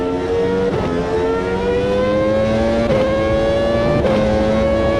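Formula One car at the 2002 US Grand Prix struggling for traction, its engine note rising steadily in pitch with brief dips at upshifts, loud and close throughout with no voices.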